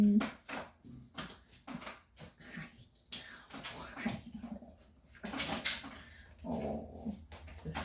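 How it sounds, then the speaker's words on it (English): A puppy growls and whimpers up close in short bursts with small yips, while a person murmurs softly nearby. "He's one of the puppies I had a few years ago"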